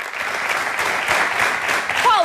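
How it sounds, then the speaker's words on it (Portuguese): A studio audience at the Portuguese late-night show 5 para a Meia-Noite breaks into dense, continuous applause. It is loud and even throughout, and a short whistle-like sweep rises near the end. "Palmas, palmas, bravo!"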